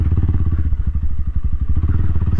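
Motorstar GPR250 Xplorer motorcycle climbing an uphill dirt off-road track, its engine thumping in a steady, loud, close pulse with some clatter, no talking over it.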